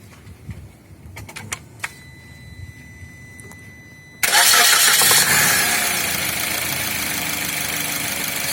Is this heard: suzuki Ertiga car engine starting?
yes